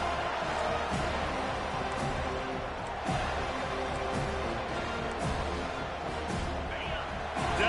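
Steady crowd roar from a virtual stadium crowd rising behind the defense on third down in College Football 25, an Arkansas versus Florida State game, a dense continuous wall of cheering with occasional thumps.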